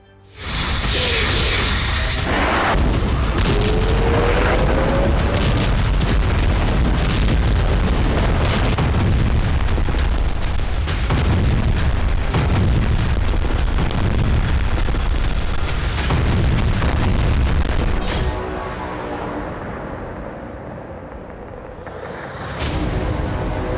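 Loud booms and blasts from Israeli strikes on Gaza, dense and continuous for most of the clip with heavy rumbling bursts, then dropping to a quieter, hollow background near the end.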